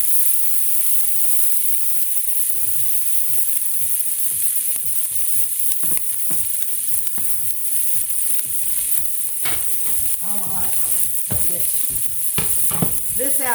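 Steak frying in oil in a pan gives off a dense, steady hiss, with scattered pops and scrapes as the pan is shifted, heard up close.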